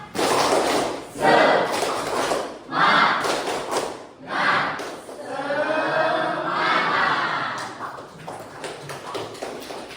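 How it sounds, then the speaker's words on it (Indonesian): A class of pupils claps out a rhythmic cheer together, loud, close thuds and taps in a patterned beat, mixed with chanting voices and a voice leading. "Sekarang kita tepuk semangat. Tepuk semangat."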